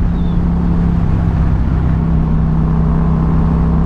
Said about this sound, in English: Not as good exhaust sound as the previous video I have uploaded